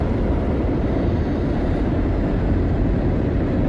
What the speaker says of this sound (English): We missed the train, Mo.